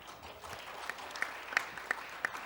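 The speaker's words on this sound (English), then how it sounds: "So please welcome our moderator with a big round of applause." Fairly quiet applause from a conference audience, with scattered sharper claps standing out from a soft, steady patter of hands.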